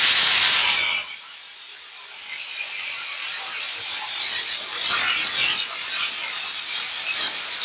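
Okra frying in mustard oil in a wok, seasoned with salt and black pepper, gives a steady loud hiss that surges at the start, then settles into a continuous sizzle with faint crackles.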